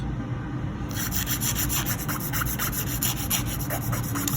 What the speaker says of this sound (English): And filing back and forth is okay.